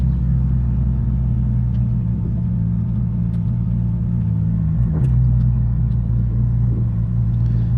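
A 1961 Willys pickup truck engine runs steadily at close range, a deep, even rumble that holds throughout with no voices.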